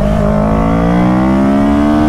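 Honda CBR 650R with an Austin Racing exhaust accelerates hard in second gear, a loud, close, continuous engine note with rising harmonics climbing steadily through the revs, no voices.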